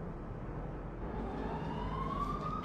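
An ambulance siren in Sydney at night wails in with a rising tone over a steady traffic rumble, growing clearer toward the end.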